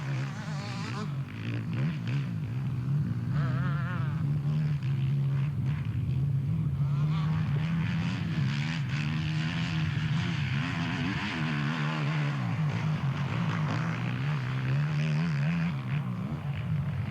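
A four-stroke enduro motorcycle at a steady pace on a timed special stage gives a continuous loud engine drone with rising and falling revs over nearly twenty seconds, with faint voices underneath.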